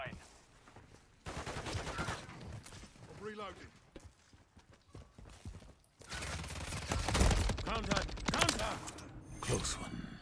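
Bursts of automatic gunfire in a shooter video game, heavy and loud in the second half, with someone talking over parts of it.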